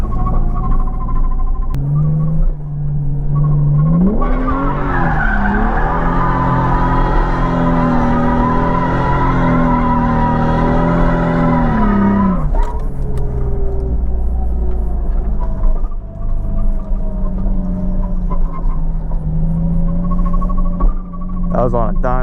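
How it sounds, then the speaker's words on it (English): Car with a welded differential doing a night burnout, a loud, steady engine roar that rises into a high revving surge before settling back to a rumbling idle. "That was on a dime burnout."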